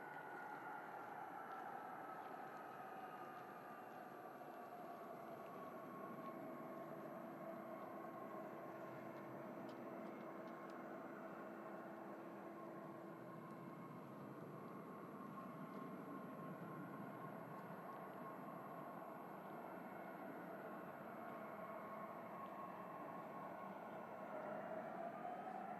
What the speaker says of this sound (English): Spool up. Sorry, initial spool up.